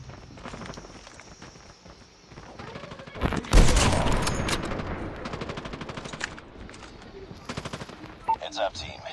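ZRG 20mm sniper rifle gunfire in a Call of Duty match, with a heavy blast near the middle followed by rapid gunfire and running footsteps, a busy close battle mix.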